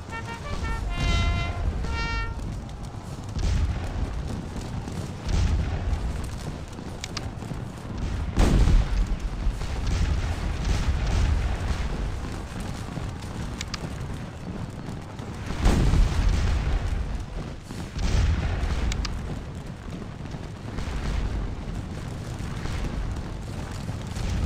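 Cannon and musket fire in a Waterloo battle game: continuous rolling volleys of gunfire, with heavy booming artillery blasts standing out at intervals over a dense, distant battle din.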